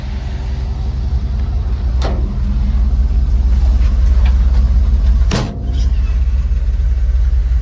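A steady, loud engine rumble from inside a moving 1950 Chevrolet pickup with a three-speed transmission, with a couple of sharp knocks or clunks partway through.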